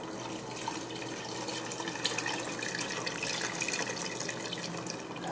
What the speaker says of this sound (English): we're going to take it out and pour some water over it to get the goodies out of it